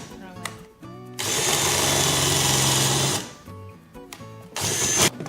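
A drill bores a pocket hole through wood using a pocket hole jig, with loud sustained whirring bursts separated by short pauses and a voice talking in between.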